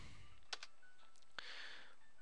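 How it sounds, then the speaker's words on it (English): Faint computer keyboard key presses while typing accented characters, a few sparse, quiet clicks spaced apart in a near-silent room. "I will press this little key here, which is next to the one on most keyboards, followed by the letter A"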